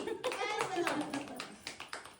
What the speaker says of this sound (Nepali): ताली बजाऊ न ताली